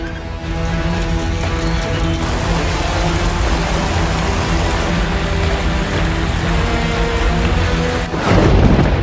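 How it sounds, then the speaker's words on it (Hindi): Heavy monsoon rain pours down in Gujarat, India, a loud unbroken roar with deep thunder rumbling beneath and a sharper burst near the end, with no voices. "कहीं तेज हवाओं के साथ बारिश हो रही है"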